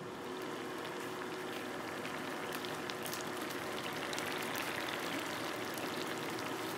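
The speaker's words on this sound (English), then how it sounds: "Just 2 or 3 minutes left here in reducing the tomato sauce and the pork mixture." Tomato sauce with chipotle, bay leaves and braised pork simmers and reduces in a pan, a steady close bubbling and popping, soft and continuous with no talk.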